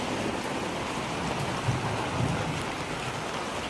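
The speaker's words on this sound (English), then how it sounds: "Rain! Rain! Rain!" Steady rain pours down outdoors at the first rain of the season, a dense continuous hiss of drops on surfaces filling the whole stretch, fairly loud and unbroken, with no talk over it.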